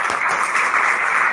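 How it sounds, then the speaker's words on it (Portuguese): Dense audience applause at an international congress hall, a continuous wash of many hands clapping, fairly close and steady for the whole moment. "Palmas para a Universidade do Estado de Mato Grosso"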